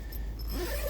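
A single zipper on the screen of a Smittybilt rooftop tent drags steadily for about a second, close up, over a low outdoor rumble.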